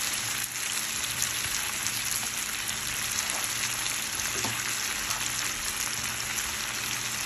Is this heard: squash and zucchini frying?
yes